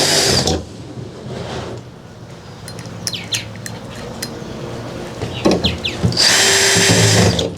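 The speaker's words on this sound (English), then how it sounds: "So we're going to put 6 screws in here." A power drill drives screws into a plastic Suncast 170-gallon dock box, loud whirring bursts rising and falling in pitch between pauses with scattered knocks and clicks, close by.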